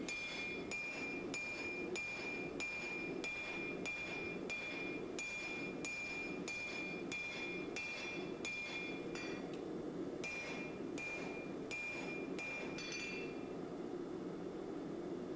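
A hammer strikes hot Damascus steel on an anvil, drawing out and tapering a hunting knife's tang, with about twenty evenly spaced ringing metallic blows that come close and clear and pause briefly near the end.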